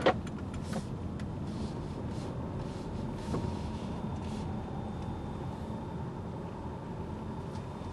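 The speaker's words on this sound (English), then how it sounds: "we're driving around in the Fusion Hybrid, and it is incredibly quiet" Cabin of a 2012 Ford Fusion Hybrid on the move, a very quiet, steady low road hum and faint rumble throughout with a soft click near the start, no voices.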